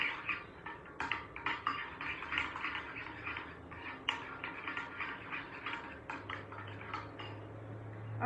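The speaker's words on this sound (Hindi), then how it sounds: "अच्छे से सबको मिक्स कर देंगे" A spoon or whisk scrapes and taps in a bowl while ground granulated sugar is mixed into dry baking ingredients in a home kitchen, steady and close with a low hum underneath, no talk.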